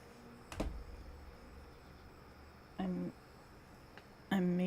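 A person's voice imitates cricket chirping with three short buzzy, tonal bursts spaced a couple of seconds apart. The bursts are close and fairly loud, with quiet gaps between them.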